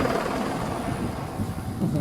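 Brushless-motor AS-350 remote-control helicopter in flight, giving a steady, continuous whirring buzz of rotor and motor that holds level throughout with slight fluctuations, heard fairly close and without pause.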